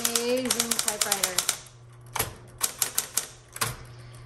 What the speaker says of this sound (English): Amazing typewriter.